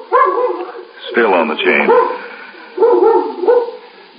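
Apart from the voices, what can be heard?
dog barking on a chain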